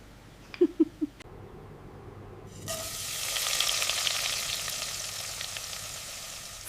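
Fresh mutton cooks slowly in a pan over an outdoor forest fire, a soft, steady sizzle swelling after a few faint knocks at the start, quiet and continuous.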